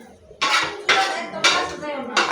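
At a roadside stall frying parathas, a metal pan or utensil gives repeated sharp clattering scrapes, about four strokes in two seconds, loud and close.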